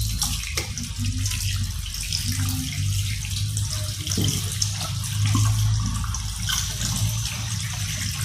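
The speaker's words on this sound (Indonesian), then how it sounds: "Lalu lakukan cuci tangan dengan 6 langkah." Water running steadily from a tap, splashing continuously with some low rushing, as hands are washed with antiseptic soap beneath it; no talking.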